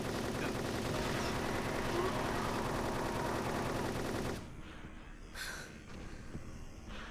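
Sustained gunfire in the video game Silent Hill 3 while shooting an enemy, a dense continuous rattle that cuts off abruptly, followed by quieter breathy sounds.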